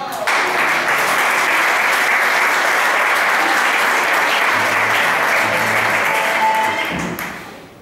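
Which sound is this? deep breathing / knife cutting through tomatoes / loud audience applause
loud audience applause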